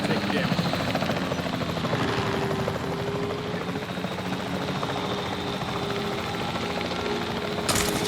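Helicopter in the video game Jurassic World Evolution 3, under attack: a continuous rotor thrum and engine whine holds steady for several seconds, with game sounds and radio-style voice chatter layered over it.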